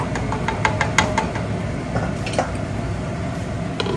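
Jamaican-style cornmeal porridge made with coconut milk is stirred steadily in a pot over medium heat, giving soft, continuous squishing and scraping with a few light knocks against the pot's sides.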